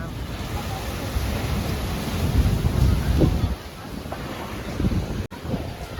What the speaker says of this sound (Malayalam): ഇവിടെ കടൽ തിരയൊക്കെ വന്നിങ്ങനെ അടിച്ച് ചെതറുവാണ്